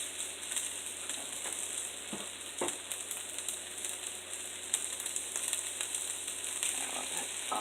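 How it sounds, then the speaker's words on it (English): Zucchini sautéing in butter in a pan gives a steady, close sizzle and fry crackle with soft stirring scrapes throughout, and no one speaks. "I always add butter when I'm sauteing my vegetables"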